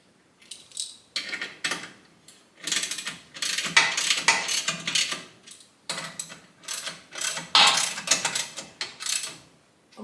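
Bolts on a Craftsman jointer's infeed table are snugged up with a ratchet, giving repeated bursts of close, crisp clicking separated by short pauses.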